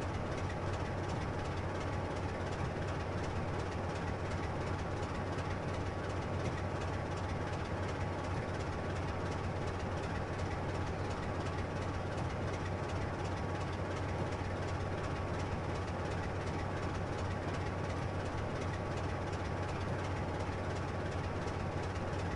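A train runs along the East Coast Main Line in Train Simulator, hauling vans toward Darlington, producing a steady, unbroken rumbling drone with a faint constant hum and no voices.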